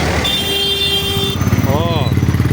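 A motorcycle engine hums steadily on a busy road in traffic near Hoskote, joined partway through by a pulsing, throbbing engine rhythm. A person talks over it.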